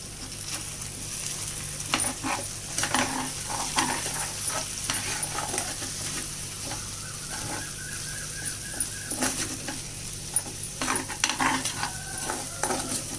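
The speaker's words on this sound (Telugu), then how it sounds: "కారం వేసుకుని ఒకసారి కలిపేసుకుంటాం" A spoon stirs chili powder into raw banana frying in a pan, giving a soft steady sizzle broken by repeated scraping and clinking strokes, faint and close, with no one talking.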